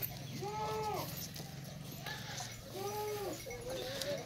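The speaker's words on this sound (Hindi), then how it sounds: "और नंबर 5 पे ये आ रही है बकरी" Goats on a Rajanpuri breed goat farm in Dera Ghazi Khan bleat in several separate calls, fairly close, over a steady low farmyard hum with faint background talk.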